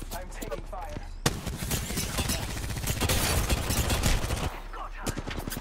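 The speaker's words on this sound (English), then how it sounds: "I'm taking fire." Heavy gunfire in the Apex Legends battle game: a long, dense burst of rapid shots and impacts fills most of the clip, loud and close, with a brief gap before it and speech-like game voices mixed in.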